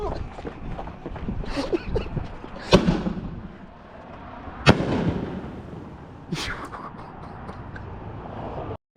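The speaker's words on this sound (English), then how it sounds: "tried to do some fireworks" Several sharp fireworks bangs burst out at irregular intervals over a steady background of voices and noise, fairly close and loud.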